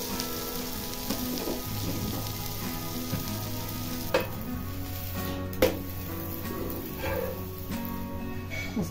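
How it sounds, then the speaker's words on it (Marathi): A dosa sizzles and fries steadily on a hot pan, a continuous crackling hiss with a few sharp clinks of a spatula, close and fairly loud with no talking. "दोन्ही बाजूने चांगला शेकून घ्यायचा"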